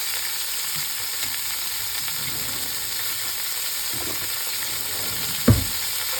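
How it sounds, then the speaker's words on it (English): Pork shoulder pieces browning in olive oil with salt and pepper, giving a steady close sizzle and frying hiss throughout, with a brief louder clatter near the end. "Just going to brown these up a little bit and then put our pork roast back in."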